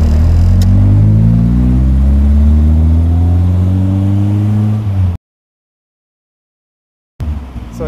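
Engine of a 1984 Hyundai Pony 2, about 36 years old, pulling the car along at a modest pace, a loud steady mid-pitched drone with gradually rising tone, then a sudden gap of silence before the engine sound returns.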